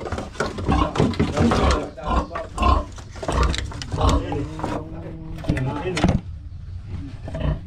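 Close, loud grunting and squealing from a pig near a king cobra up a tree, with people talking excitedly over and between the animal's calls.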